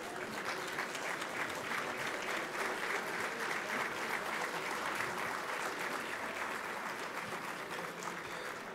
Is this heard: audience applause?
yes